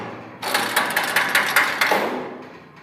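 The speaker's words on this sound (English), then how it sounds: "This is the handle for the squeeze part of the squeeze chute." A metal handle works the side squeeze mechanism of a 10-foot steel cattle squeeze chute, giving a loud, close series of about six rhythmic ratcheting clanks over a couple of seconds before fading.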